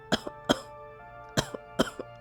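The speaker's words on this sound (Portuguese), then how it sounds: "Mas quando começou essa tosse?" Four bursts of harsh coughing in a narrated Portuguese reading of a Poe tale set in damp nitre-encrusted vaults, the coughs spaced irregularly and fairly close, with a faint steady hum underneath.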